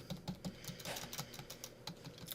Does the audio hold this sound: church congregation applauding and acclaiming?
no